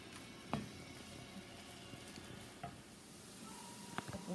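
Faint sizzling of dried fish frying in a pan while food is stirred and mixed, with soft scraping clicks and a few utensil taps over a low continuous crackle.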